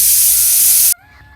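A pressure cooker whistle blasts hissing steam with a thin whistling tone in a village kitchen, loud and continuous for almost a second before cutting off abruptly into a faint lingering ring.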